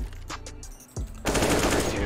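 Rapid automatic gunfire from a first-person shooter video game crackles loudly in bursts after a brief lull with smaller game sounds, and a voice talks faintly beneath.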